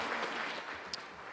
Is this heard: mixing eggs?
no